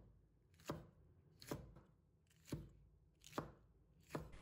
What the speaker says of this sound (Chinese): 把它切成小块